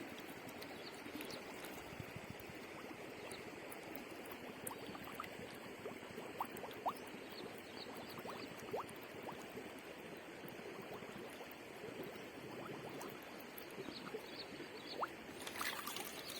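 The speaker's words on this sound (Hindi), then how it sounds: "ये वाटर बॉटल ठीक है खाली वाली, मैं से पानी भर रहा हूँ उसमें," Narmada river water pouring into an empty plastic water bottle outdoors, a steady liquid gurgle and trickle running continuously at moderate level with no talking.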